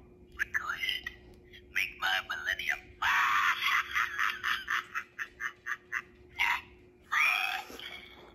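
A Build-A-Bear jumbo green frog plush plays its voice box, a series of short bright electronic croaks and chirpy sound bursts in quick succession, fairly close and clear, with a faint steady hum underneath.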